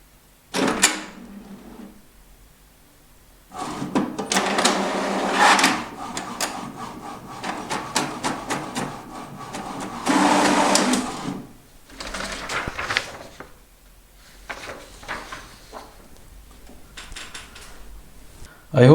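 A desktop printer prints a document, giving repeated mechanical whirring and clattering passes with short pauses between them, fairly close, while speech is also detected.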